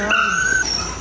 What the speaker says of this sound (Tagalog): Kanino aso ba si Bambam?